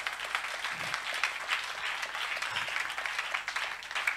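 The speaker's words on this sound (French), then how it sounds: "On acclame la parole du Seigneur." A church congregation at a Sunday service applauds continuously, a sustained, even patter of many hands clapping at moderate distance.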